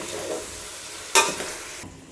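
Chicken fries in a pan of masala with mint and coriander, giving a soft sizzle and then a brief, louder burst of hissing and stirring midway. The clip is short and has no talk.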